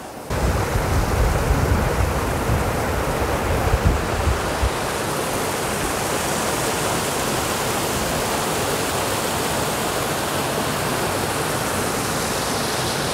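Mountain river rushing through the Ordesa valley in the Spanish Pyrenees, a steady broadband roar of whitewater that stays loud and unbroken throughout, with a heavier low rumble in the opening seconds.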